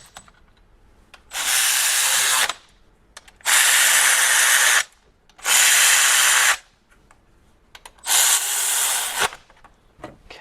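A power tool runs in four separate bursts of about a second each, with short quiet gaps between them, as it tightens bolts on a Hyundai Ioniq electric motor during a rebuild. The whirring is loud and close, and there is no talk.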